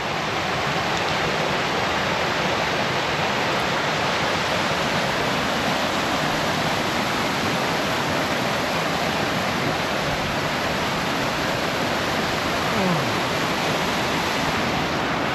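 Steady, loud rush of a mountain stream along a branch of Teapot Creek, heard up close as a continuous broadband flow with no voices, filling the wilderness valley setting.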